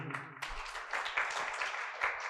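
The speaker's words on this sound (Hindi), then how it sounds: "रानियों के नाम पे ताली बजाते लोग" An audience at a Hindi spiritual discourse applauds with a faint, steady patter of clapping that swells after a brief quiet start and continues throughout.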